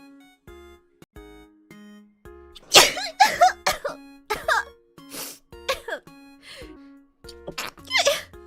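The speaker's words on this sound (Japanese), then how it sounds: "強制的にくしゃみを出して、30分で何回くしゃみができるのかっていう検証をしつつ" A person forces a rapid series of about eight sharp, breathy sneezes close to the mic, spaced roughly half a second apart, over a quiet, steady tonal background.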